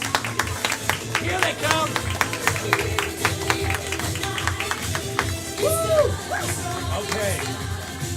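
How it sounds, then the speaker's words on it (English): An audience at an indoor event claps and cheers steadily throughout, with a crowd babbling and people shouting and talking over the applause. "Clap for them, everyone. Make some noise."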